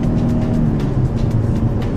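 A 2015 Lincoln MKC with a 2.3 liter engine is driven fast, producing a loud, steady engine and road roar with rushing wind noise throughout.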